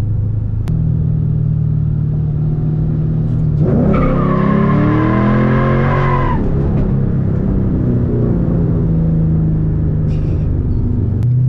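A car on worn-out tires with no grip left skids, a loud engine drone rising into a long tire squeal of about three seconds that then fades back to steady rumbling.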